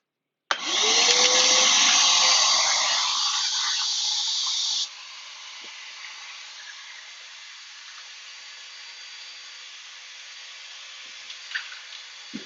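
A shop vacuum runs through a Dustopper dust cyclone in a workshop with a bandsaw, starting as a loud, steady hissing roar that drops after a few seconds to a quieter, constant whoosh, with a few faint knocks near the end.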